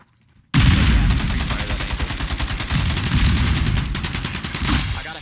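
Pre-firing in a competitive shooter video game: loud, close, continuous rapid gunfire starting abruptly after a brief silence and sustaining steady automatic bursts throughout.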